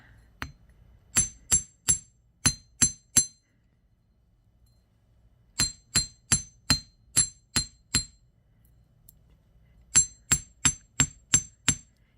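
Metal mushroom-shaped earrings are hammered in three quick runs of about six or seven sharp, ringing strikes each, separated by short pauses. The blows are close and loud, with no talking.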